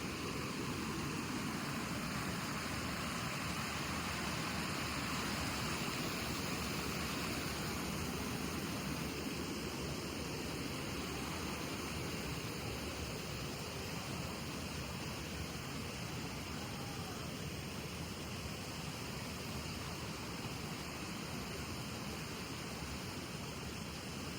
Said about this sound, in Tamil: இப்போ பார்க்குறது ஃபால்ஸில் இருந்து வந்து அருவி கீழே கொட்டுற இடம் இது